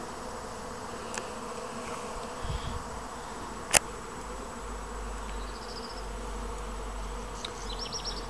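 Faint, continuous buzzing of honeybees in a quiet home garden near blackberry bushes, with three hives nearby, and a sharp click partway through.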